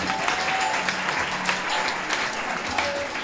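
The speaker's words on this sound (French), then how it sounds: "Acclame pour toi" A congregation claps together in a dense, steady burst of applause lasting a few seconds, with a few faint voices mixed in.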